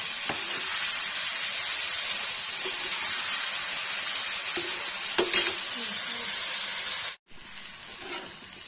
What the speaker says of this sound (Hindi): कलेजी फ्राई हो गई